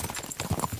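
Horse hooves clip-clopping in the medieval video game Kingdom Come Deliverance 2, a quick run of close, distinct hoofbeats with a few thuds bunched near the end.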